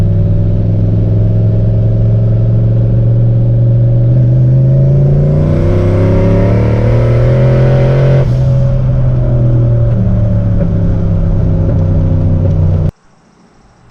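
A turbocharged Ford Foxbody Mustang drives with a loud, steady engine drone that climbs in pitch as it accelerates, then drops away abruptly near the end.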